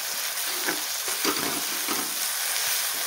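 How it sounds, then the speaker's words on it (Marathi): Chili powder sautés in a pan for egg bhurji, a continuous dense sizzle heard close up with faint stirring bumps and no voices. "आणि आता आपल्याला तिखट पण छान परतून घ्यायचं"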